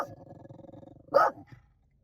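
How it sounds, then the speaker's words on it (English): A big black fluffy dog guarding her territory growls low and steadily, then lets out one sharp bark before going quiet. "It's a big, black, fluffy dog."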